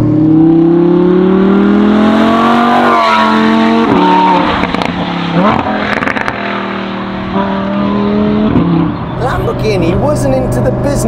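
Lamborghini Huracan STO fitted with a Novitec exhaust accelerating hard, a loud close howl that rises sharply through several quick gear shifts with crackles between them.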